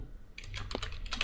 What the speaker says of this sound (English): if I type something now, so I type a word